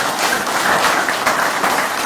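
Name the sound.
applause welcoming the Honorable Minister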